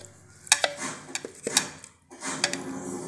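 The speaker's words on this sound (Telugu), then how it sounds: "చూడండి మిక్సీ జార్లో వేస్తున్నాం." Pieces of dragon fruit dropped one at a time into a mixer jar for juice, giving a few sharp clinking knocks against the jar with short pauses between them, close up and with no talking.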